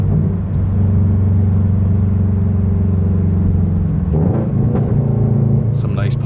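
A 2022 Subaru BRZ fitted with a Tomei UEL header and Tomei Expreme Ti titanium exhaust rumbles steadily from inside the car, with a few sharp crackling pops breaking through toward the end.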